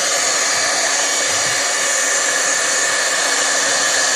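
A heat tool dries a stamped paper craft from Stampin' Up!, giving a loud, steady, close blowing hiss that holds unchanged throughout with no talk.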